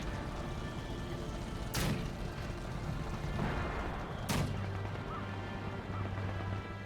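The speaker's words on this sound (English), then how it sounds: "my mortar's just bombarding this position" Mortar rounds pound a position in the Company of Heroes 2 battlefield: two heavy crashing blasts about two and a half seconds apart, loud over a dense, steady wash of combat noise.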